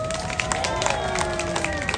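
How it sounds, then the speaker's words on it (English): Dense applause from an outdoor street-festival crowd, a steady wash of claps holding for a couple of seconds alongside a sustained tonal hum and some voices in the crowd. "Round of applause for waist."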